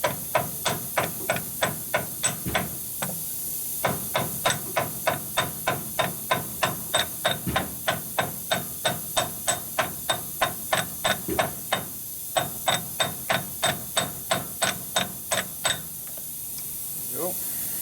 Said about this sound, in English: So just grab a big socket. Tap on that.